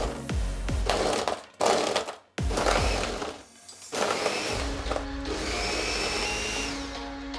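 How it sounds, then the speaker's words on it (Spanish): Blender pulsing a mango mangonada mixture, several short loud grinding bursts with brief gaps, then a longer steady whir of blades churning the thick fruit. "Cerramos la licuadora y con pulsaciones vamos a licuar todo."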